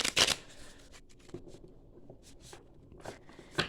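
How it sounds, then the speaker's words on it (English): Tarot cards shuffled by hand in quick riffling bursts, crisp and close, with quiet pauses between the shuffles. "we're going to shuffle out some more cards as I feel needed"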